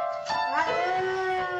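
A dog howls along to a piano in long, wavering, singing tones, close and fairly loud, with steady sustained piano notes running underneath.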